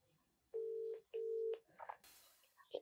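Telephone dialing tones as a phone call is placed: two steady beeps, then a few fainter tone blips and a short burst of noise, quiet and close.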